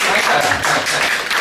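Audience at an indoor lecture gathering bursts into dense, steady clapping that fills the short moment at even loudness.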